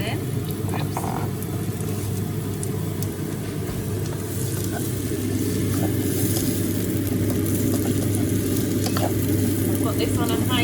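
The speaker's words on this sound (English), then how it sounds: "Put the onions in the pan. Next I'm going to tip the peppers in." Onions and peppers sizzle in a frying pan over high heat, a steady crackling hiss with occasional clinks and stirring, while a voice talks faintly over it.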